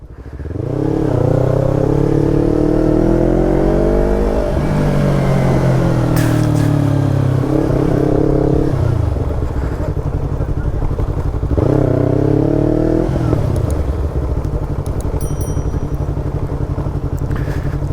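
Yamaha R25 motorcycles riding, a loud close engine drone that rises and falls through several gear changes and revs, steady all the way through without clear talk.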